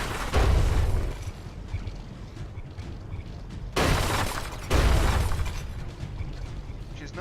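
HESH shells slam into a frigate in the From The Depths naval combat game, two heavy booming impacts with crackling debris trailing off between them, loud and close.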